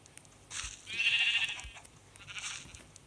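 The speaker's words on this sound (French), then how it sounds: "Il va falloir que j'essaie de faire rentrer un mouton" A Minecraft sheep bleating in the video game, one drawn-out nasal bleat in the middle flanked by shorter bleats, fairly faint and clear with no talking.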